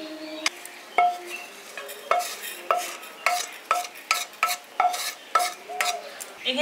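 Roasted cumin seeds being ground by hand, a steady series of rhythmic scraping, knocking strokes about twice a second, close and fairly loud, with no talk.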